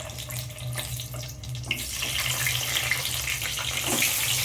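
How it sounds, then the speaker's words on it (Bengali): Potato pieces coated in salt and turmeric drop into hot oil for a home chicken biryani, the sizzle swelling louder partway through into a bright, continuous hissing crackle, no voices. "ওই তেলের মধ্যে এবার আমি আলুগুলো ভেজে নেব।"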